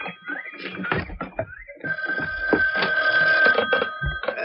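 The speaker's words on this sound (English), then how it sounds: "There's the phone." An old-style telephone bell rings continuously in a room, steady and moderately loud, with other background sounds mixed in under it.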